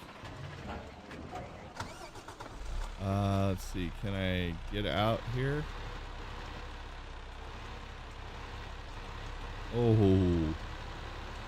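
A truck engine in Farming Simulator 2015 on Xbox One cranks over, revs in several bursts and settles into a low idle, with a further rev near the end while someone talks briefly.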